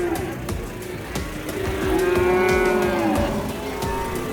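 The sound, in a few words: Belgian Blue type cattle mooing at livestock market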